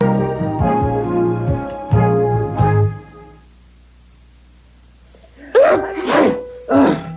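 A single sneeze bursts out, followed by a couple more sharp sneezy bursts after a brief quiet gap, close and fairly loud.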